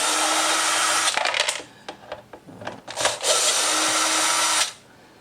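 Short bursts of a power drill back plastic thread-cutting screws out of the rear fender shell on an SSR Razkull 125 motorcycle, with a long whir, scattered clicks and rattles, then another long whir.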